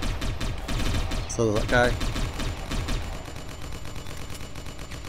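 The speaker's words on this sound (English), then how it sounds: "That's a turret." Turret gunfire from a sci-fi tactical game, loud rapid bursts of automatic shots rattling in quick rhythm over game ambience, with a voice speaking briefly over the shooting.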